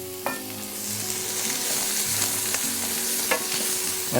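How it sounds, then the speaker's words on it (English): Vegetables sauteing in hot oil give a steady sizzle, with spoon or spatula clinks and stirring scrapes heard up close throughout. "Our next thing is going to be sauteing some of the vegetables that we cut earlier."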